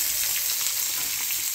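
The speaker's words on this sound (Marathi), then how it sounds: "कांदा छान परतायचा आहे" Chopped onion sautéing in an iron kadhai or tava for a red amaranth leafy vegetable dish gives a steady, close, even sizzle and crackle with no talking.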